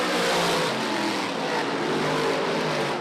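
Speedway race cars roar through corners three and four, their engines a dense, loud, continuous wash of noise that fills the short stretch without a break.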